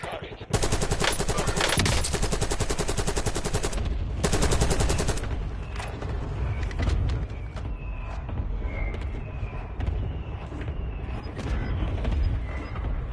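Dense, loud machine-gun fire rattles in sustained rapid bursts, with scattered single gunshots and mechanical clatter following in an online shooter match, voices faintly present underneath.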